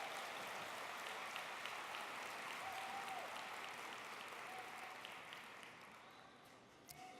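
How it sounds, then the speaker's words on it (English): Audience applause at a conference luncheon fills the room with steady, dense clapping from a large crowd that gradually thins toward the end, with faint whistles briefly rising above it. "Please give them all a round of applause."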